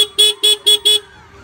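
A motorbike horn that has been wired together with a fog light gives four quick, loud honks in an even rhythm, close up, and then cuts off.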